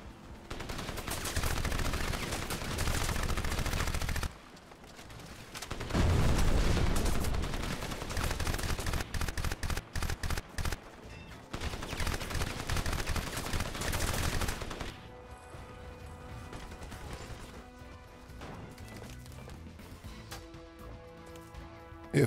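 Gunfire from the shooter game Crysis, played on a Beelink Mini S13 mini PC: dense, sustained bursts of automatic fire and shots with brief pauses, loud and continuous, then a quieter stretch of game ambience.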